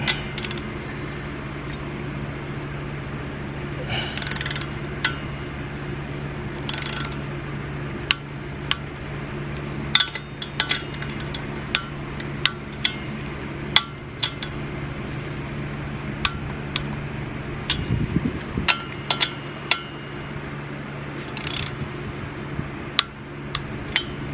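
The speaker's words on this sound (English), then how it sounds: "we're just gonna do our first step to half the torque" A torque wrench tightens the bolts of a twin-disc clutch and flywheel on a car, with sharp metallic clicks and ticks scattered irregularly over a low steady hum and no talking.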